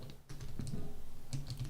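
Typing on a computer keyboard while coding in Python, a quick patter of close key clicks in short bursts with a brief pause, clear and alone.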